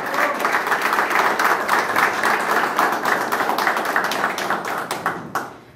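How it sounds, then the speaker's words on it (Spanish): Sustained applause from a crowd at a 2023 election press conference, dense steady clapping that continues for several seconds before tapering off at the end. "un fuerte aplauso le vamos a dar la bienvenida"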